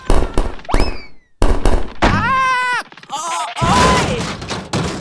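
A cartoon explosion in an animated children's comedy episode about a chaotic birthday party: loud bursts and crackling pops in quick succession, mixed with excited cartoon voices and squeaky sound effects.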